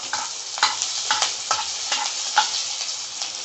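Chopped green chillies hit hot oil with browned garlic in a pan, giving a steady close sizzle broken by a few sharp crackles and spatula scrapes.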